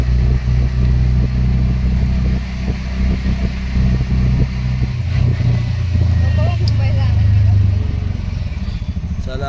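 Cars and motorcycles pass on a foggy national highway, a steady loud engine rumble with rising revs and rattling clatter running throughout.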